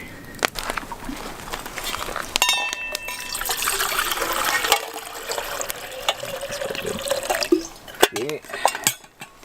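A steady stream of water splashes into a pot for boiling outdoors in winter, with clattering handling noises at the start and end.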